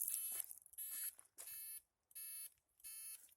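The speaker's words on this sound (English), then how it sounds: "That beep is annoying, but that's the point." A quiet, high-pitched electronic turn signal indicator beep on a Honda XR650L motorcycle repeats five times at a steady, even rhythm, each tone lasting about a third of a second.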